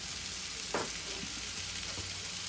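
Food sizzles in a hot pan with an even, continuous hiss, broken by a couple of soft stirring scrapes, close and without voices.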